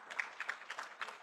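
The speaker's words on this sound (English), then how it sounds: "Please welcome him with a hand clap." Audience at an academic conference on curriculum development applauding a guest professor, a soft, somewhat distant patter of hand claps with uneven bursts, fairly quiet throughout.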